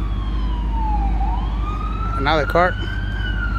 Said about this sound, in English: it said the ambulance is coming, perfect time for this